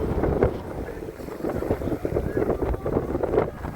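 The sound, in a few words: strong wind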